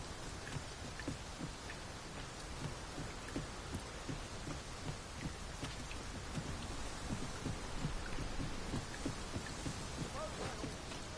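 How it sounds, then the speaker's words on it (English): Rain falls steadily, a dense, soft patter and hiss of drops that stays even throughout, fairly quiet and with no other clear sounds over it. "It started raining, Master."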